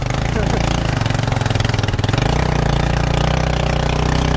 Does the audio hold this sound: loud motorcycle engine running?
yes